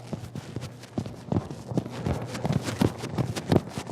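A horse lopes under saddle during lateral flexion schooling, its hooves beating out a steady repeating three-beat rhythm of clear, fairly close thuds over a low background rumble.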